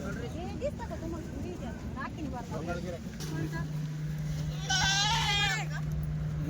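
A Rajasthani male goat at a livestock sale lets out one loud, wavering bleat near the end, with people talking throughout and a steady low hum underneath.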